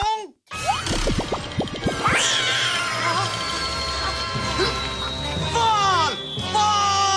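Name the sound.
kitten meowing in a cartoon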